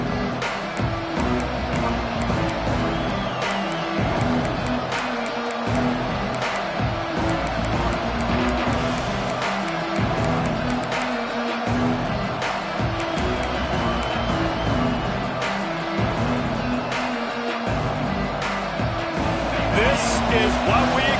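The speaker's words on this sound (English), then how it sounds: "This crowd ready to make its presence known." Steady roar of a football stadium crowd during a game, a dense continuous wash of many voices that stays loud and even throughout, with a commentator's voice running over it.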